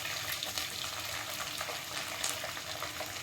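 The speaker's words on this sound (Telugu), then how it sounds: "తర్వాత పచ్చిమిర్చి యాడ్ చేసుకున్నాను" Green chillies sizzle in hot ghee with curry leaves as a Mughlai chicken curry is started. The frying is a steady, dense crackle that stays close and even throughout, with no voices.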